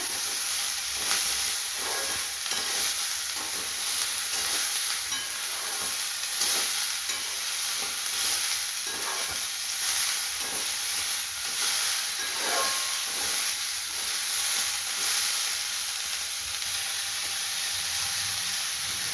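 Onion fries together with bitter gourd for a palya, a steady hissing sizzle broken by repeated rhythmic spatula strokes and scrapes against the pan, with no speech.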